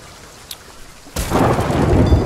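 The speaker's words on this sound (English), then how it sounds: "Oh, I just got struck by lightning!" A sudden loud thunderclap opens into heavy rain during a storm at sea in Sea of Thieves, following a brief quieter stretch, with the rumble and downpour filling the rest of the clip.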